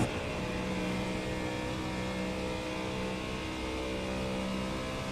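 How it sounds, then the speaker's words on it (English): Ford Mustang race car in a racing game at Spa climbing the hill along the Kemmel Straight, a steady droning engine note held at high revs, continuous and unbroken with no talk. "Coming up the hill in the Ford Mustang down the Kemmel Straight, all the way up into 6th gear"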